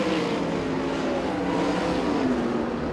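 Sprint race cars of the USAC/CRA series roar together at Perris Auto Speedway, a dense, steady engine drone at moderate distance with no clear pass-by peaks, continuous throughout.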